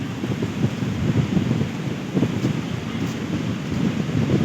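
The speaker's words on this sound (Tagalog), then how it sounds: "Malakas ang alon." Rough surf crashes continuously with heavy wind buffeting the microphone, a dense, loud roar with no voices.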